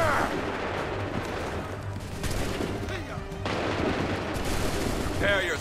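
Musket volley gunfire in the Assassin's Creed 3 video game, heard as a dense, continuous rumble of shots and battlefield noise. Commanders shout orders over it.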